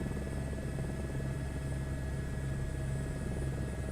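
A helicopter flies in the Microsoft Flight Simulator 2024 game with a steady, loud, close rotor and engine drone and a constant tonal whine, heard alone without talk.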